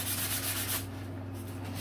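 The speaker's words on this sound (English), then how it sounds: "it's just basically kind of just sanding the inside" Steady scratchy rubbing of sandpaper on the inside of a plastic cowl, close by, with an electrical hum underneath; the hiss thins out partway through.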